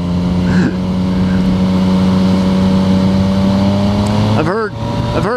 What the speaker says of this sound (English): This motorcycle is brilliant